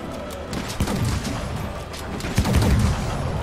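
Two bursts of muffled light bowgun blasts in Monster Hunter, fighting Arch Tempered Kulve Taroth, one near the start and one past the middle, over a steady rumbling background of game noise.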